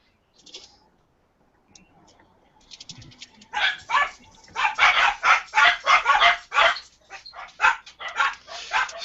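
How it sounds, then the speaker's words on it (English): Several dogs barking in a room, starting with faint yips and building into a rapid run of loud, close barks that keep going to the end. "Sorry about my dogs here."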